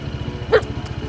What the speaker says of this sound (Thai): ถ้าเจ้าหมาสองตัวนี้ไม่เห่าทัก เราก็คงเลี้ยวไปผิดทางแล้ว